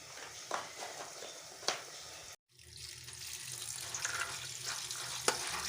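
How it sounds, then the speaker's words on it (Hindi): Running water splashes into a bowl as soda-soaked chickpeas are rinsed, a steady close hiss broken by a brief silent cut, with a few sharp clinks and knocks against the container. "ये जो चने को सोडा लगाए हुए आधा घंटा हो गया, अब इनको हम अच्छी तरह वॉश कर लेते हैं।"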